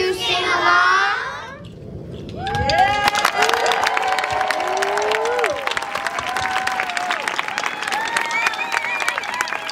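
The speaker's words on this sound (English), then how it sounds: "Let's give them one more round of applause" An audience at a school winter performance breaks into loud, sustained applause and cheering after a first-grade song, with children's voices and shouts mixed in; it starts after a brief sung line and stays dense throughout.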